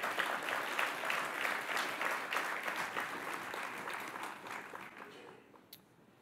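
Sustained audience applause fills a hall during President Patrice Talon's October 2017 meeting with the Beninese diaspora, a dense clatter of many hands that gradually thins and fades toward the end.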